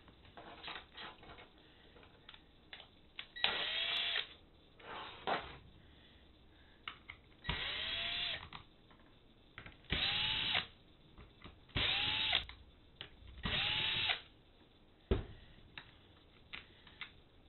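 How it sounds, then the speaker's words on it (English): A power drill whirs in repeated short bursts while removing screws, each lasting about a second, with clicks and handling noises between them, close and fairly quiet. "I do have my drill set up pretty high on when I'm extracting it"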